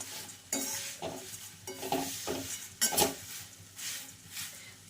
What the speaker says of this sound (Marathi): याला छानपैकी असं फ्राय करून घ्यायचं आहे आणि पटकन फ्राय होतात हे पोहे